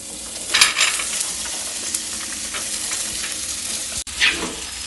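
Banana thoran is stirred and fried in a pan, giving a continuous close sizzle broken by a few scraping stirs and a short pause before another scrape.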